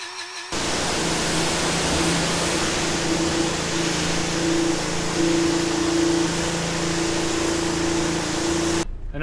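Compressed air hissing steadily into a tyre during inflation, a loud continuous rush with a steady hum underneath, starting and stopping abruptly.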